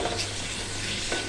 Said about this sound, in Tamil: அதில் கொஞ்சமாக எண்ணெய் சேர்த்துக்குங்க. ஒரே ஒரு பெரிய வெங்காயம், 2 பழுத்த தக்காளியை சேர்த்து